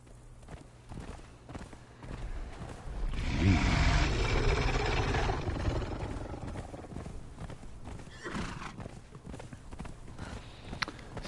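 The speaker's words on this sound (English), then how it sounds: "In fact, I'm going to ride on my horse." Horse hooves in the video game Conan Exiles, a rhythmic clip-clop of a mount picking up into a gallop, loudest in the middle and settling back to a quicker trot.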